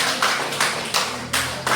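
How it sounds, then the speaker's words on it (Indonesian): A small group of teachers in a training session claps together in several distinct bursts, each a short cluster of hand claps separated by brief gaps, close and fairly loud. "tepuk tangan untuk kelompok."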